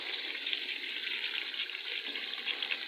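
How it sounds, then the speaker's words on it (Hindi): Water added to a pan of frying chicken wings gives a steady, bright sizzling hiss that holds evenly throughout, moderately quiet and with no talking. "तो इनके अंदर थोड़ा सा करते हम पानी ऐड।"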